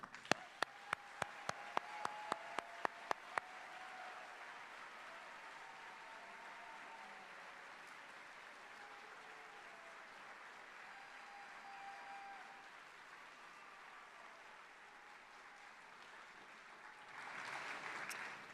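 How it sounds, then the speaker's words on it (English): At an Army retirement ceremony, a run of sharp, evenly spaced loud claps opens, then broad sustained audience applause honoring retiring soldiers continues, swelling louder near the end. "Ladies and gentlemen, please join me in a round of applause for our 55 soldiers that retire today"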